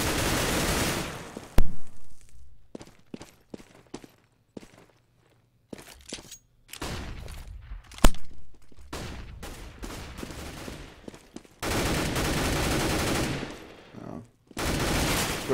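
Counter-Strike match on de_inferno with bursts of gunfire and single cracking shots scattered across the scene, footsteps and quieter stretches between, and a commentator talking over the action.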